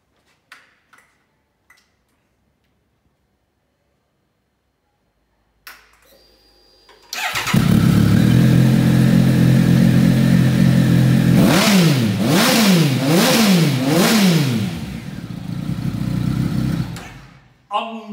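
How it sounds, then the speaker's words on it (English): A Triumph Speed Triple RS motorcycle in really good condition, fitted with an aftermarket exhaust pipe, cranks and fires into a loud, close idle, then revs sharply in several rising and falling blips before settling back, with no talk over it. "Let's start her up and see what she sounds like with that pipe."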